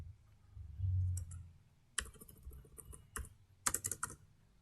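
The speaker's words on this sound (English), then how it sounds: "in place of text type password" Typing on a computer keyboard while coding a PHP password form. Quiet, close key clicks come in short, uneven bursts with brief pauses between them, alone without talk.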